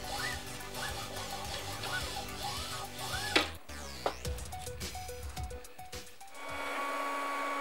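A 3D printer working on a Christmas tree ornament gives off whirring stepper-motor tones that sweep up and down in repeated arcs, followed by a few sharp clicks and short beeping motor pulses, then a steady hum.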